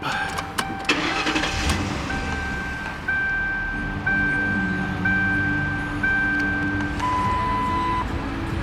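A 2006 Ford Crown Victoria Police Interceptor with 86,000 miles cranks and catches, then settles into a steady idle, loud and close, with steady warning chimes sounding over the engine and no one talking.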